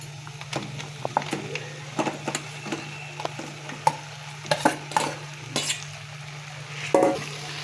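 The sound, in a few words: chicken frying and being stirred in a pan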